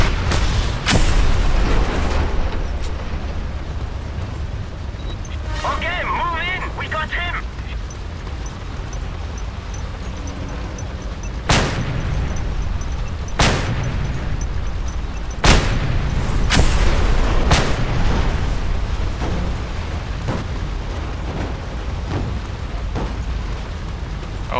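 Gunfire and explosions in the video game Just Cause 2: rolling rumbles of blasts with several sharp, loud booms spaced a few seconds apart over a continuous background roar.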